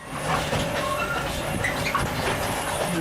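An unusual mine railway train on a model layout gives a continuous rolling rumble with light clatter and faint high squeals. The sound stays steady and fairly loud throughout, with no talking.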